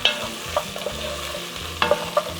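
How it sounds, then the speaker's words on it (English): Braised beef short ribs with crushed red pepper sizzle in a pan as a spoon stirs and knocks against it a few times, close up, with no voices. "mix that all together, like so"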